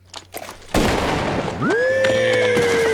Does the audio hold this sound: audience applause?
no